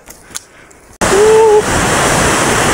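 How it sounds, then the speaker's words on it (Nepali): A river rushes loudly beside the Dhaulagiri trail, a broad steady roar of flowing water that starts abruptly after a quiet moment and holds constant, with no speech. "यहाँ चाहिँ खोला रहेछ, खोला तरेर जानुपर्ने रहेछ"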